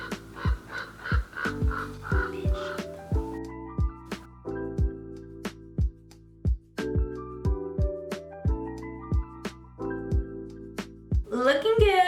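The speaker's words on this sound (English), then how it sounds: "Do you hear those crows? That is what I live with." Crows cawing outside a home, harsh repeated caws arriving in irregular bursts, close and loud, with short pauses between calls.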